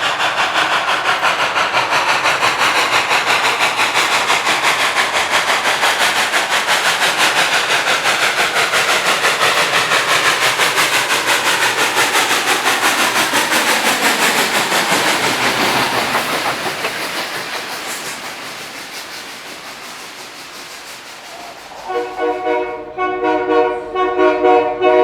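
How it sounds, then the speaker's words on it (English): Southern Railway steam locomotive 154 climbs a grade with loud, rapid stack exhaust chuffing that stays strong, then fades into the distance, followed by a brief whistle-like tone at the end. "the stack talk from 154 was spectacular as she climbed the grade"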